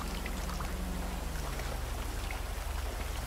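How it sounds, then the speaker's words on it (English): Steady rain pours down in an unbroken hiss with dense patter on nearby surfaces, loud and close throughout, and no one speaking. "Can we step out of the rain a second, sir?"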